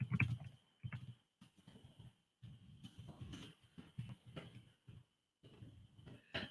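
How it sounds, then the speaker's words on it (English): Quiet typing on a computer keyboard indoors, irregular bursts of soft key clicks separated by short pauses, close and alone. "my typing is so off today"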